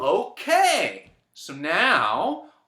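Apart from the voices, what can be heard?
No everyday noise stands out behind the speech.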